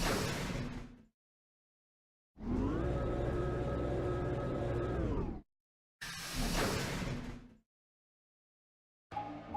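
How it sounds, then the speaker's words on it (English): Heavy sliding doors close in the Virtue's Last Reward video game, loud swooshing rumbles each lasting a few seconds and separated by full silences, with one long tonal sweep in the middle. "Chromatic doors closing."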